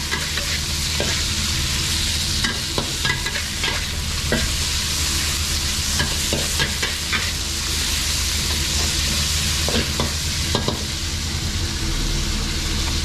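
Meat for larb stir-fried in an iron wok, a continuous loud hiss of frying with frequent sharp scrapes and clanks of the spatula against the metal throughout.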